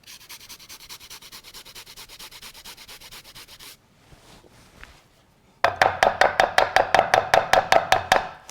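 Steady rhythmic rasping of food rubbed against a hand grater, close up, first a quieter even run of strokes, a brief pause, then louder, sharper strokes at a regular pace.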